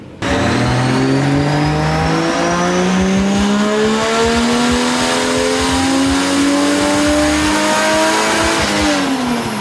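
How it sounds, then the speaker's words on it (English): A turbocharged Toyota Supra with an eBay turbo kit, making over 500 wheel horsepower, revs hard through a power run. The engine roars loud and close, its pitch climbing in long sustained sweeps. "Well, let's see what it can do. Roast the clutch, Ethan."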